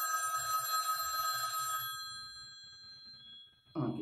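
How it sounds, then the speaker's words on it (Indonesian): A telephone rings with a bright, steady electronic trill during a spoken talk on prayer, then cuts off, followed by a brief closer clatter. "ini ada telepon dari mana ini?"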